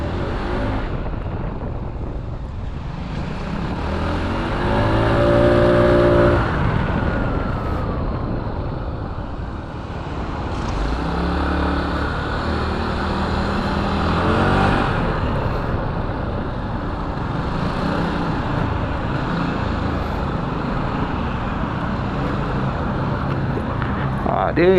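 A QJMOTOR ATX 250X motorcycle, 2026 model with a 250 cc engine, runs steadily through a test ride with the engine drone rising and falling, while a rider talks over it and wind and road noise persist.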